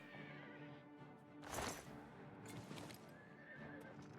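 A horse in Oblivion Remastered gives a loud, shrill whinny that rises and trails off, with clip-clop hoofbeats and game ambience around it.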